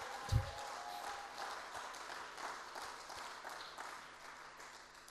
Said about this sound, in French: Est-ce que je peux avoir des acclamations pour le roi des rois?